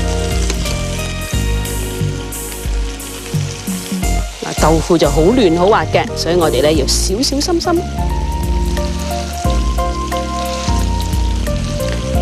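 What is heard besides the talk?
pan-frying fish-stuffed tofu in oil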